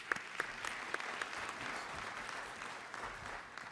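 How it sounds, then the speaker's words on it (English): A conference audience applauds panel speakers at a medical meeting, a steady wash of clapping with a few sharper individual claps standing out near the start, fairly distant and moderate in level. "Another round of applause for the speakers."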